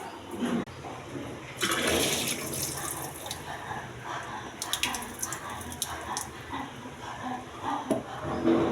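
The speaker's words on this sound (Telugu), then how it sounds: "ఈ వాటర్ శుభ్రంగా కడిగి పారపోసేయాలి." Water sloshing and pouring as red rice is washed and the rinse water tipped off, with splashy bursts and trickles over a wet, running-water background, no speech.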